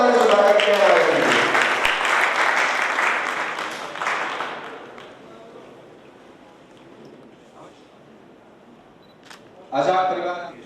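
Loud applause from an audience at a district talent felicitation ceremony in Bikaner greets chief guests, including a tehsildar, invited onto the stage. It fills the first half, fades to a low murmur, then a short burst of clapping returns near the end.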